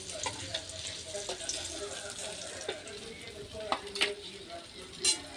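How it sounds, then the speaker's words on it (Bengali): Fish fries in a pan in a home kitchen, a soft steady sizzle with occasional sharper clicks and spatula scrapes, fairly quiet and close. "বাকি মাছটাও আমি ভেজে নেব।"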